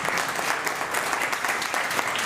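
Ministers at a Council of Ministers meeting applaud the president, a continuous, full round of many hands clapping at close range that fills the whole short stretch without pause.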